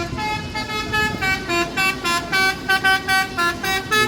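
Coach buses from the MPM and Palala lines arriving during the 2023 Indonesian holiday homecoming travel, with loud repeated musical horn toots in a rhythmic pattern over engine noise.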